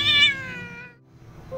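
An orange stray cat gives a single drawn-out meow close by that fades out, followed by a faint quieter mew at the end.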